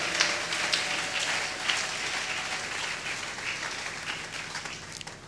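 A church congregation applauds in a broad, steady wash of clapping that fills the room and slowly tapers, with no one speaking over it.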